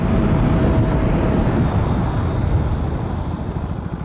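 Two motorcycles, a 2025 TVS Apache RTR 160 4V and a 2025 KTM Duke 160, drag racing over a few hundred metres, a loud sustained engine roar with steady broadband rush that fades slightly toward the end.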